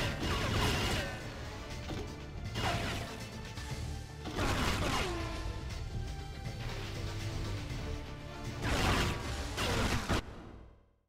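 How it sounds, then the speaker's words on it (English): Fireworks explode in the video game 007 Agent Under Fire, a continuous loud roar of bangs, crashes and whooshes with repeated bursts throughout. "Fireworks."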